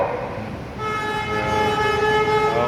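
An LRT train pulls into Marikina station, its rumble building before a loud sustained horn or brake tone comes in and holds over the platform noise.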